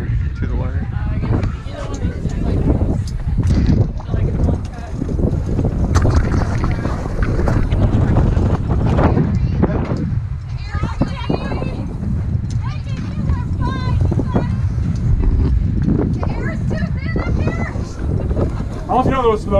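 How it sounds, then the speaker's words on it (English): Strong wind blows steadily across the microphone high up on a rope course, with loud continuous buffeting and rumble throughout, and people talk faintly beneath it. "It's pretty windy up here."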